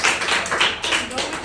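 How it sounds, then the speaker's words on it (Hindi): A group of children clap together in a brief burst of applause, with voices mixed in over the claps. "तालियां बच्चों।"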